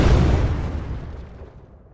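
A loud explosion effect in an Unreal Engine project, a broad booming blast that hits at once and decays steadily over about two seconds, with no voices.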